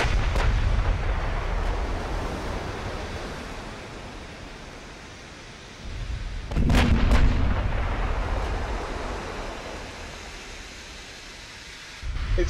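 Naval guns fire in the warship combat game Ultimate Admiral Dreadnoughts, heard as a broad, rumbling roar with a heavy booming burst near the middle and another at the end, with no talking.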